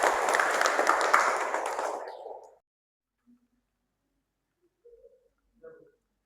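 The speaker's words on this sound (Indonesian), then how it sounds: "Beri aplaus untuk Citra." Classroom applause for a student, a steady wash of many hands clapping that fades out after a couple of seconds, followed by near silence and a few faint sounds.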